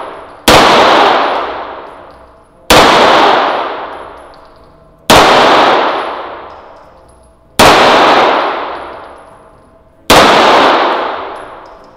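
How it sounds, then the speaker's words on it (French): Five loud, evenly spaced 9 mm gunshots strike the plates of a cheap bulletproof vest, each a sharp metallic clang with a long ringing decay, close and with no talk. "On va voir si avec du 9 mm, maintenant, ça arrive à traverser les deux plaques."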